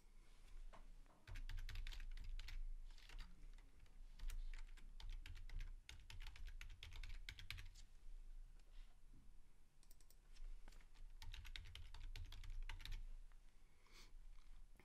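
Steady, rapid keystrokes on a computer keyboard as a password is entered at login, with close clicking taps in quick bursts and brief pauses, no talking.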